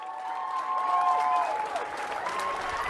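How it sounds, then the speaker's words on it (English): Neighbourhood applause for the NHS at the 8 o'clock clap, steady clapping from many people with a few cheers and voices mixed in, sustained at moderate loudness throughout. "The 8 o'clock clap has become a unifying moment"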